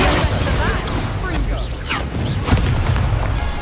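Incendio fire spell blasting in the Hogwarts Legacy video game: loud booming, crackling bursts within a dense, continuous wash of game sound, with a voice talking over it.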